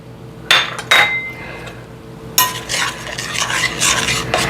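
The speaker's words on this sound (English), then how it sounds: "So we're going to stir those in." A spoon stirs raisins into coffee cake batter in a bowl, two sharp clinks against the bowl followed by a brief pause, then steady scraping and clinking strokes, close and fairly loud.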